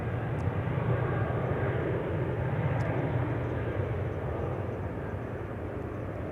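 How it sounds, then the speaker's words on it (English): A KLM Boeing 787 Dreamliner approaches runway 18 left at Amsterdam Schiphol, a steady broad engine rumble heard at a distance, holding even and fading only slightly over several seconds. "I think this Dreamliner is coming to 18 left."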